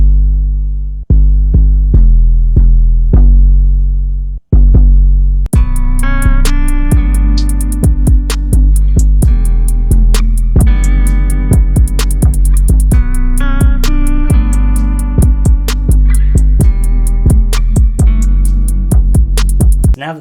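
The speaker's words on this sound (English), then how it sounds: "For the 808, I'm just going to record it in and then quantize the notes afterwards." A deep 808 bass pattern in an emo rap beat follows the chord progression, booming low notes that come in alone at first, then sit under a busy loop of bright plucked and percussive sounds.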